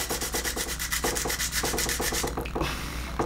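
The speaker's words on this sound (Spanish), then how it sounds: "ya vieron que yo le estoy lijando" A guitar part is sanded by hand with quick back-and-forth strokes, making a steady rhythmic scratchy rasp close by, with a brief pause and lighter rubbing near the end.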